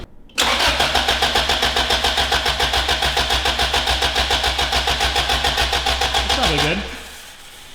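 A B18-swapped Honda Civic fitted with a new turbo kit cranks with a fast, even chugging rhythm for several seconds, loud and close, before winding down. A voice speaks briefly.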